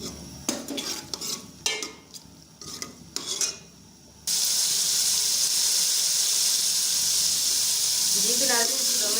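Garlic and ginger are lightly fried for moong daal: utensil clinks and stirring first, then a loud, steady sizzle of food hitting hot oil takes over and continues, close up.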